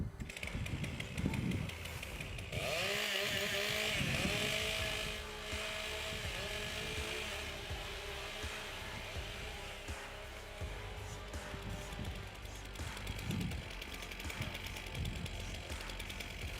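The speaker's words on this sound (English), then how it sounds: "Warm up your saws." Several chainsaws warm up at a STIHL Timbersports rookie competition in Australia, revving hard together in a loud, continuous roar with rising and falling engine pitch throughout.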